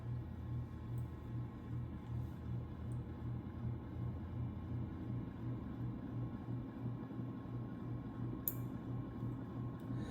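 A 1991 SMC X42 42-inch ceiling fan on medium with loud bearings hums steadily, a soft rhythmic ticking thump pulsing evenly about twice a second under a faint whir, one sharp click near the end, no speech.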